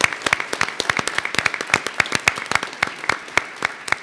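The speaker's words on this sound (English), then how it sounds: "So let's give them a round of applause." Applause for the school's mariachi students at a school board meeting, a fairly small group clapping close by in crisp, distinct, irregular claps that continue without a break for several seconds.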